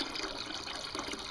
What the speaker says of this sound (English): I'm going to have to add just a little bit of water